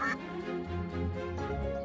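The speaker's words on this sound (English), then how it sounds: "a 2-year-old Indian runner duck, is lord of this manor" Two-year-old Indian runner duck at an old French manor house, giving a short nasal call close by, followed by lower murmuring and tones that may include faint voices.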